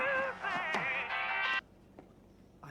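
A phone ringtone plays in a hospital drama scene, a bright melodic ring lasting about a second and a half before cutting off, followed by quiet room ambience with faint noises.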